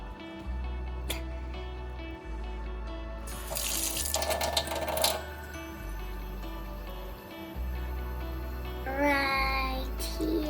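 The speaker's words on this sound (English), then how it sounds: "Now let's rinse it with water." A shelled egg is rinsed under a running kitchen tap during a children's science experiment, with a steady close stream of water splashing into a sink and a few louder gushes and changes in flow.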